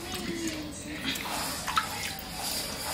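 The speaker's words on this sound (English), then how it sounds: "I'm going to go through and wash that really well." Running water rinsing and washing pig feet for a Caribbean souse, a steady splashing flow with small drips throughout, close and moderately loud.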